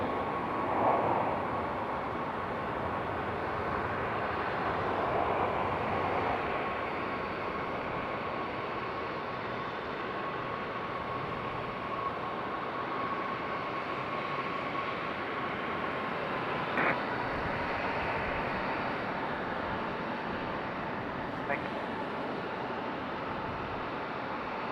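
A JetBlue Airbus A320-200 touching down on landing, heard as a faint, steady distant jet rumble with a thin sustained tone and no talking.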